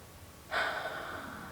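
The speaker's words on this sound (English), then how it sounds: "So you're breathing." A person takes a single deep breath during a guided meditation, a soft airy inhale starting partway in and fading slowly, close and quiet with no talk.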